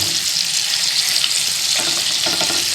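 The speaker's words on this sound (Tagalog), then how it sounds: "habang piniprito natin yung isda" Espada fish fries in a pan with a steady, loud crackling sizzle of hot oil throughout, close by and with no one talking.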